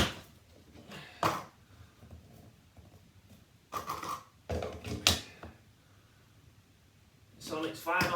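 A plumbing fitting on a bathroom sink or toilet is tightened notch by notch, giving a few sharp mechanical ratcheting clicks spaced seconds apart. Quiet talk and room noise fill the gaps.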